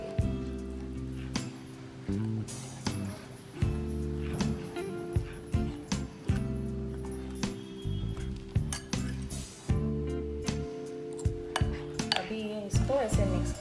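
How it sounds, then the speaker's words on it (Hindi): Eggless biscuit cake batter being stirred after a cup of milk is added: a spoon repeatedly clinks and scrapes against the bowl in an irregular rhythm, close and moderately quiet, over a soft steady tonal background. "अब हम इसमें ऐड करेंगे 1 कप मिल्क और इसको अच्छी तरह से मिला लेंगे।"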